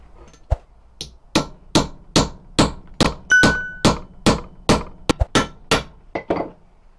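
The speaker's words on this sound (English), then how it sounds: "we'll hammer this flat." Metal hammering as a spoon is beaten flat, about a dozen sharp ringing blows struck in a steady rhythm with one quick double strike, close and loud with no talking.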